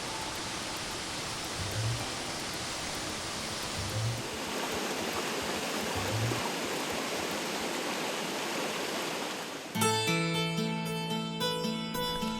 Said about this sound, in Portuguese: a primeira cachoeira do Rio das Almas depois que ele deixa o Parque Estadual dos Pirineus